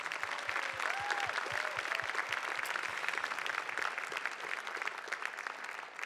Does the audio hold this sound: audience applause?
yes